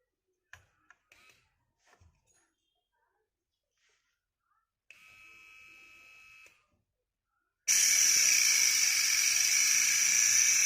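An IR 14 Pro OCA glue remover machine cuts a phone shield. A short, quieter buzzing whine comes first, then a loud, steady high whir starts after a pause and runs to the end.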